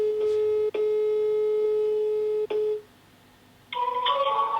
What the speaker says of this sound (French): Je vais appeler Rémi direct.